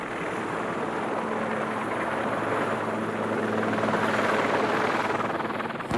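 A helicopter in flight, its main and tail rotors making a steady, loud, close droning whir that holds an even level throughout.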